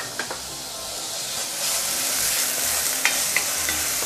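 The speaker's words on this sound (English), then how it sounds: "So I'm going to saute this for a minute or two." Fresh herbs sauté in a hot pan for curry spare ribs, giving a steady close sizzle and hiss with a few light clinks and stirring scrapes from the utensil, and no talk.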